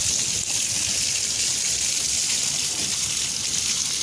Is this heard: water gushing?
yes